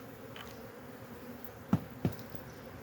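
Honeybees hum softly and steadily around an opened hive during an inspection while it is expanded to a second box, with two brief dull knocks from handling partway through.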